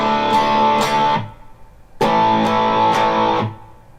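A power chord in A is strummed on guitar with a distorted tone in a down, up, down, then muted pattern. Two loud, bright bursts of chord are each cut short by a palm mute.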